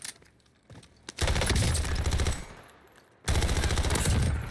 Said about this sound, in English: I love fast fire rate SMGs.